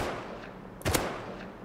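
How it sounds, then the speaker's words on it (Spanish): A single sharp gunshot from a firearm in the survival game Rust cracks out once, loud and fairly close, breaking an otherwise quiet stretch of low ambient hiss. "Disparamos."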